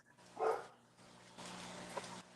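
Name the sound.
dogs barking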